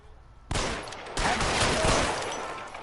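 Gunfire in the video game L.A. Noire: a sudden loud blast followed by a second burst of shots that rings on, with little else beneath it.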